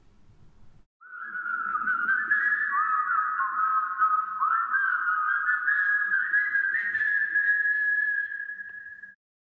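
A Bastl Kastle mini synth triggered through its VCA gives a steady, loud, whistle-like tone that wavers and glides in pitch, starting after a short low rumble and sustaining alone for about eight seconds before cutting off.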